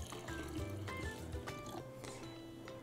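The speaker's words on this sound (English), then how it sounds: "So you just keep pouring water on until your water runs clear." Water poured over sesame seeds during rinsing, a steady liquid fill and splash running throughout with small drips, close and moderately quiet, no talking.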